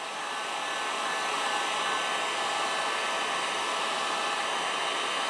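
Steady hiss of a heat gun or hair dryer blowing hot air onto the slits of a Mora Classic knife sheath, continuous and even for several seconds, with no voices.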